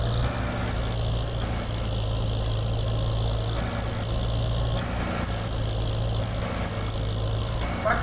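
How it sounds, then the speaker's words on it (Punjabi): A Swaraj 855 tractor engine in Farming Simulator 22, working a corn silage field and stuck in mud, holds a steady low drone that runs throughout, with a faint rhythmic swell under it and no talk. "ਮੈਂ ਵੀ ਦੂਜੇ ਹਾਈ 'ਚ ਪਾਉਣਾ ਟਰੈਕਟਰ"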